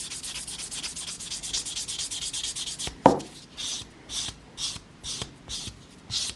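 A nail file rasps back and forth across fingernails to smooth out scratches, first as a continuous scrubbing, then after a sharp tap as short, regular strokes about one per second, close and clear.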